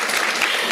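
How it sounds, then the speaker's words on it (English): A brief burst of audience applause fills a formal annual dinner hall, dense clapping at steady loudness for under a second. "Clap."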